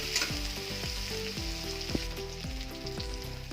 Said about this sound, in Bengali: কচুর লতি ভাজা ভাজা হয়ে আসছে আর একটু ভেজে নেবো